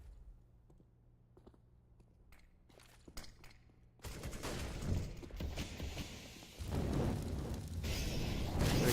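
Gunfire during a competitive Counter-Strike match: a few sharp shots over quiet at first, then dense overlapping bursts and rattling fire that build louder toward the end.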